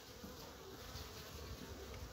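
Honeybees buzz densely at an open hive being inspected, a close, continuous, even hum of many wings with no talking.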